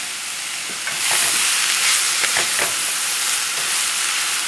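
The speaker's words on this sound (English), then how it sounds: "It's sauteing very nicely." Shredded cabbage and noodle flakes sauté in a hot pan with a steady, close sizzle and hiss, broken by a few scraping stirring strokes, and no one speaking.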